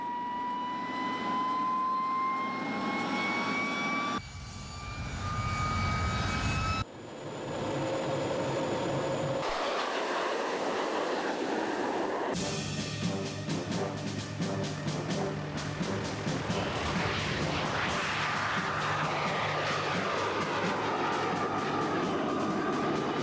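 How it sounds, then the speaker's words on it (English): A 1952 Meteor night-fighter jet makes a flypast, a long, loud roar of jet engines that swells and sweeps past with rising and falling whine, cut into several segments. "taking to the skies in this stunning 1952 night-fighting Meteor to give me my own private jet flypast"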